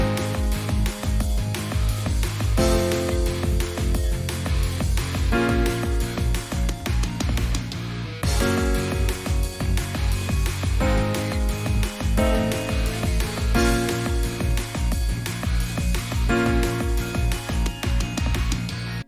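A dense, loud chord progression with a passing tone moving between chords, full sustained harmony over a steady rhythmic low end, played continuously without any voices.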